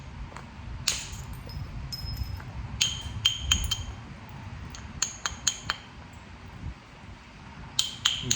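A flint rock is knapped into an arrowhead, giving sharp, glassy clicks and taps at irregular intervals over a quiet background, some strikes stronger than others.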